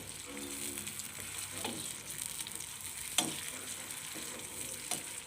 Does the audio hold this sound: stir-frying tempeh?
yes